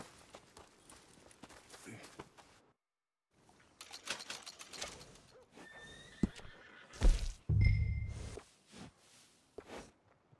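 Workhorse in Red Dead Redemption 2 gives a loud, close whinny among clip-clopping hooves and shuffling steps, with a snort mixed in at a stable setting; no one speaks.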